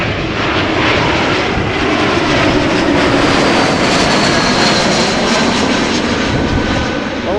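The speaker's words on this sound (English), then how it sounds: "we're going to see the A380 land on the wrong runway" A large airliner, an Airbus A380, roars loud and steady throughout as it comes in to land at Amsterdam Schiphol Airport, its broad engine rumble continuous with no talk.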